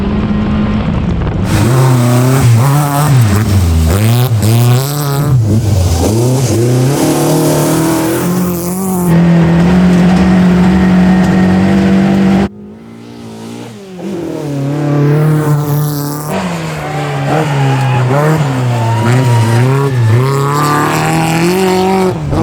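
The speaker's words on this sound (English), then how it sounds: "stuck in second gear in an old vintage car, a little 4-cylinder, 100 and something horsepower car" A 1980 Toyota Corolla rally car's small 4-cylinder engine, stuck in second gear, drones and revs hard, pitch climbing and falling as it races along a rally course, loud and close throughout.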